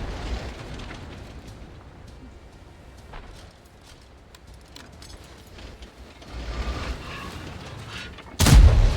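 A tank destroyer, the SU-130PM, fires an AP round in a tank video game on the Outpost map. Low engine rumble and quieter background booms give way to a sudden loud, sharp cannon blast near the end.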